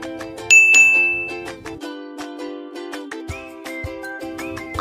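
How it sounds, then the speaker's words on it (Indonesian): A bright electronic chime rings out, followed by a sequence of clear tinkling tones in a short melodic pattern, with no voices. "setelah anak-anak mendengar tanda lonceng seperti ini ya"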